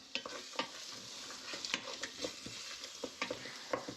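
Rice stir-frying in oil in a pan after scrambled eggs, with a steady soft sizzle and repeated scraping, tossing stirs at an irregular rhythm, heard close and fairly quiet with no talking.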